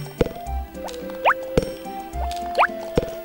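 Crops being watered with a watering can in Harvest Moon: Back to Nature, heard as repeated game plops and drips at a steady rhythm, each splash paired with a rising chime-like tone, with no talk.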